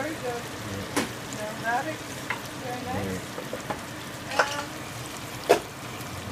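Rouladen sauce with celery sizzles steadily in a pan after red wine goes in, a continuous frying crackle with a few stirring knocks, while a voice speaks briefly over it.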